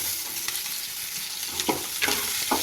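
Crushed garlic, onion and curry leaves sizzle in hot oil with a constant frying hiss, broken by a few sharp scrapes of a stirring spoon near the end.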